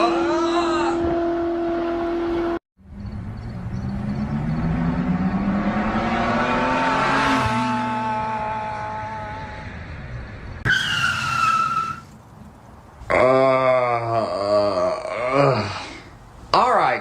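A cartoon car drives forward with rising engine whines and a long skidding screech, mixed with shouting voices and sliding cartoon effects, all loud and close.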